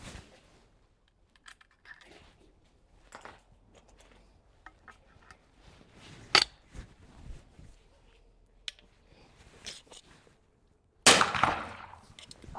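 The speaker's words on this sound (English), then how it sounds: "I've put a little beer keg out at 10 metres. I'm going to try an air gun first" An air gun is fired at a small beer keg set ten metres away, giving a few sharp, isolated cracks amid quiet stretches, the last one a louder snap with a brief ringing tail.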